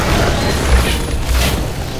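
Gunfire in the fantasy action game Hunted: The Demon's Forge comes as dull, booming bursts, two heavier thumps standing out over a dense, continuous wash of loud noise.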